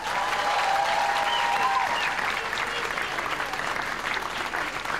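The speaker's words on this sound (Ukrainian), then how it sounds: "Ваші оплески, Маша Єфросініна." Audience applause fills a comedy club, loud and continuous from start to finish, a dense steady clatter of many hands with a faint voice briefly audible early on.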